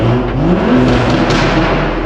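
A car engine revving loudly and close, a dense, sustained roar that holds steady for about two seconds with no voices.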